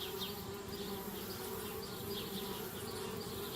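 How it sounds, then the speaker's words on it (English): Insect-like bee buzzing in the point-and-click adventure game Anna's Quest, a steady, continuous drone of several bees swarming around a treehouse, with faint wavering whines rising and falling over a constant hum, no voices. "Darn bees, trying to move into our treehouse."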